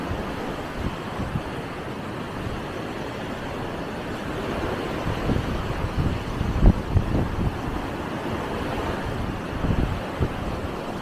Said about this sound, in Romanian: Păcat că bate tare vântul.